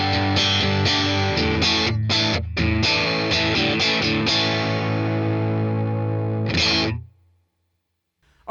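A Fender American Ultra Stratocaster with all three pickups playing sustained distorted chords and notes with a chorus-like shimmer, loud and continuous, ending with a held note that fades to silence.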